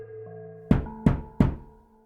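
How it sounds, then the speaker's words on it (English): Three soft, evenly spaced knocks on a bedroom door, close and hollow, over a faint steady background hum. "the soft knocking echoed in the room"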